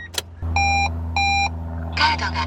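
A Toyota bB starts up with an engine rumble, then the toll card unit sounds two long electronic beeps and a short synthesized voice announcement over the steady idle.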